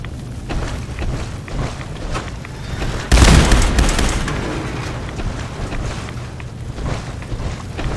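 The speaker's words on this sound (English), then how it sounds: "Maybe we'll get out the Gatling laser action now" Rapid weapon fire rattles in Fallout 4, a dense continuous stream of shots with a loud burst midway, then ongoing sustained firing without talk.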